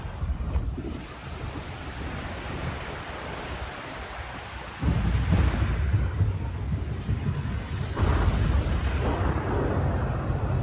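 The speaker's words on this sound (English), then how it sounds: "Well, finally you get some rain." Rain hisses and wind gusts in the Shadow of the Colossus game, a dense, continuous wash of noise with deep rumbling thunder swelling louder twice midway, no talk.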